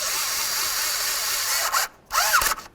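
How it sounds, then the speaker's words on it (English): A wrench with an inverted torque socket snugs down bolts on an oil filter and cooler housing of a fifth-generation Dodge Caravan, a steady ratcheting whir ending in two short tightening bursts. "using our inverted torque socket, we're going to go ahead and snug these up"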